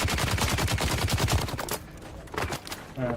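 Rapid automatic gunfire in the Dune: Awakening video game sounds as a dense, close burst of shots for about a second and a half, followed by a few scattered single shots.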